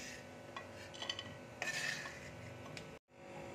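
Fried cashews and almonds are scooped from hot ghee onto a plate. A metal spoon scrapes and clinks against the pan in short bursts, then a brief silence follows.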